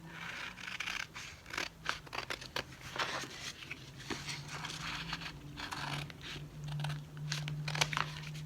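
Scissors snip steadily around a sticker, giving soft, close, rapid cuts with paper rustle and crinkle running throughout, quiet and with no speech.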